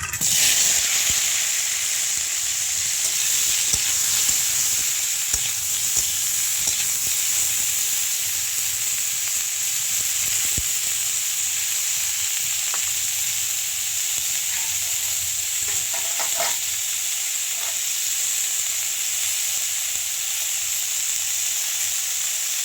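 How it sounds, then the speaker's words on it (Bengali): Pointed gourd sizzles in hot oil in a wok, a continuous bright hiss with occasional pops and stirring clicks, close and steady, with no voices. "কড়াইয়ের তেলগুলি তেলটি গরম হয়ে গেছে এবার পটলটি দিয়ে দেবো"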